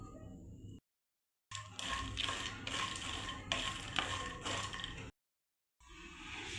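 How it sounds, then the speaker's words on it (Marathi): Makhana (fox nuts) fry in ghee in a kadhai, giving close sizzling and scraping stirring noises in bursts, broken by two short silent gaps. "मखाणे आपल्याला फ्राय करून घ्यायचे आहे"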